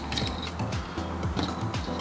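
Coilover spring preload collar being unlocked and spun by hand on a FactionFab FR-Spec V2 coilover, giving a steady run of close metallic ratcheting clicks and creaks with faint rustle behind.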